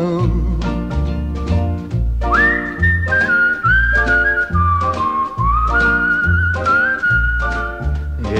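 Melodic human whistling in a 1961 RCA recording, a clear sustained melody over a steady plucked and drummed band accompaniment with no singing.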